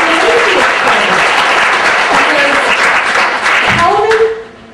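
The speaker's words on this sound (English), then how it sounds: "let's hear another round of applause for Mr. Kim for creating this program." A presentation audience gives Mr. Kim a sustained round of loud applause, dense steady clapping that holds for about four seconds before quickly dying away.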